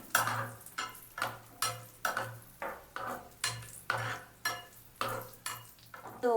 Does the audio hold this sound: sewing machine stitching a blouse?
no